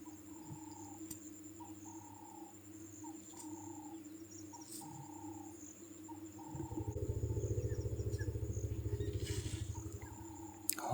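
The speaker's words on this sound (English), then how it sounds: "just listen to that communication that he's having there with other elephants" Elephant on safari rumbling low to other elephants, a deep sustained rumble that swells loud at mid-clip over steady insect and bird chatter in the distance.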